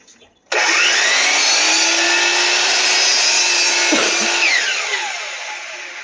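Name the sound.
cutting crown molding at an inside 45-degree miter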